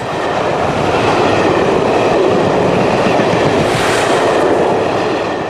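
A charter railtour train hauled by Fragonset diesel locomotives for Shepherd Neame Brewery rumbles past steadily and loudly, a continuous heavy roar of engines and rolling wheels with no voices.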